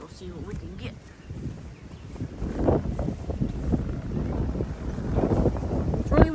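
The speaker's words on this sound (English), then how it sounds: "It's really windy today. Y'all may not be able to hear me." Strong gusting wind buffets the microphone outdoors in a herb garden, rumbling and rising in waves, with faint rustling and brief bird chirps; a voice talks intermittently underneath.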